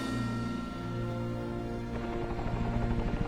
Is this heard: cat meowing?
no